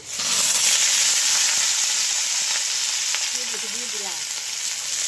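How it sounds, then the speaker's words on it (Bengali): Potatoes fry in oil in a pan for jackfruit and prawn curry, giving a loud, continuous close sizzle with a faint voice briefly in the background. "আলুটা লাল করে ভেজে নিল, এখন কাঁঠাল দিয়ে দেবে।"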